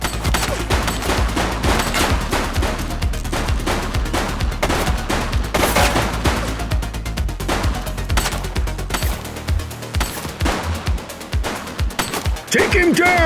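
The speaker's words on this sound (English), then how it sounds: "She's shooting!" Bursts of gunfire ring out steadily through a shootout in the PC police game The Precinct, rapid shots layered over game music and effects, with loud dense volleys across the whole stretch.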